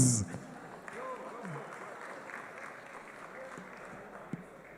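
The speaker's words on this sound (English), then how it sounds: "let's give a round of applause of the" Audience applause at an esports tournament final, a PUBG Mobile Africa Cup match: a broad, steady wash of clapping from a crowd, sustained at moderate level after a brief voice at the start.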